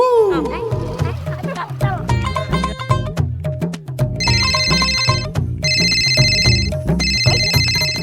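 A mobile phone ringtone plays loudly and continuously as a looping electronic melody with bright chiming tones, in an Odia comedy scene, with voices speaking over it.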